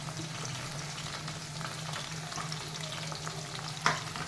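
Garlic frying in a pan of oil while drumstick pickle is made, a quiet steady sizzle with faint stirring and one small clink near the end.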